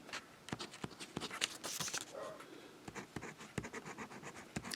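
Lamy 2000 fountain pen writing on paper, close and quiet, a run of light scratchy strokes and taps in an uneven rhythm.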